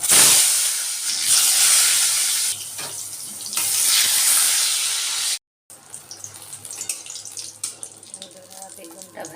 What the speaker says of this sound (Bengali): আগে ভাজাগুলো ভেজে নিই